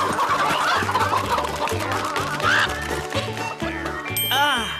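Cartoon farm chickens cluck in a rapid, bouncy series against a bed of music, each cluck clearly audible. A bright rising tinkle joins them at the end.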